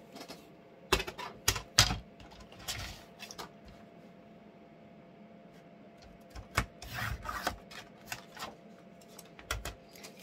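A strip of cover material is cut to length while making a book's inside cover, giving a scatter of short, sharp cutting and rubbing bursts close by over a quiet background, with clusters near the start and end.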